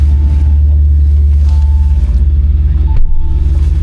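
A loud, deep engine drone from a Lamborghini Urus SUV drifting on ice holds steady, heard close as if from inside the vehicle, with a slight surge near the end.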